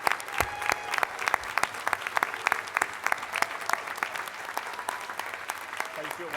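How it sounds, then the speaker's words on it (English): Applause at a dinner event with a congressional Jewish caucus, a moderate crowd clapping with distinct sharp individual claps scattered through a steady patter, some murmuring voices underneath. "So can we give a round of applause to all of our non-Jewish colleagues?"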